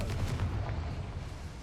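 The Confringo blasting spell going off in Hogwarts Legacy, a short, deep booming blast that rumbles and fades out quickly.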